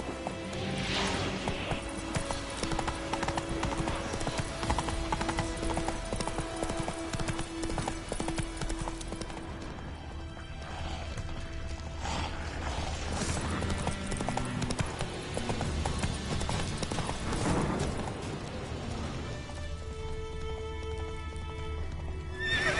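Roach the horse gallops in The Witcher 3 with continuous rapid hoofbeats, and neighs and whinnies rise over the pounding stride throughout.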